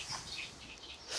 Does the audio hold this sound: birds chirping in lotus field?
yes